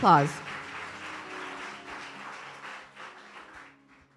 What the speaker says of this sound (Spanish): Si tú lo crees, dale un aplauso al Señor.